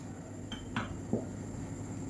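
A few metallic clinks and scrapes of a utensil stirring sambar with cooked lentils in a cooking pot, spaced apart over a steady kitchen hum.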